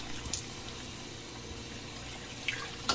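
Tap water runs steadily into a sink while a hard boiled egg is peeled beneath the stream, a constant close hiss with a few faint shell clicks.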